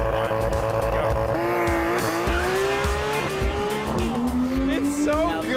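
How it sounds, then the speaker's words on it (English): A Porsche 911 GT3 launches hard on a proving-ground test course, tires squealing as the engine climbs through the gears toward high RPM, loud and close, with voices talking over it. "And launch control heading towards the speed bumps"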